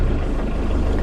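A van engine idles while warming up, a steady low rumble with a faint regular throb, constant and close throughout.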